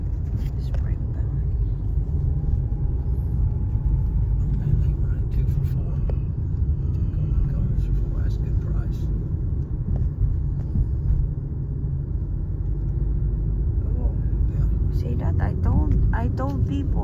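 A car driving on a road gives a steady, close low rumble throughout, and people talk quietly over it.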